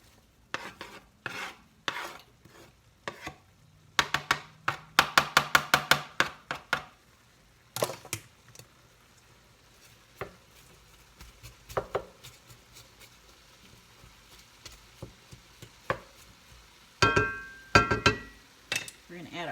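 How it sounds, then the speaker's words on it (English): Ground meat browning in a pan for homemade bierocks, with onions tipped in, giving soft stirring scrapes and clinks of a utensil against the pan, busy in bursts then quieter, close by with no talk. "the meat will continue to brown, and I'm going to go ahead and add our onions"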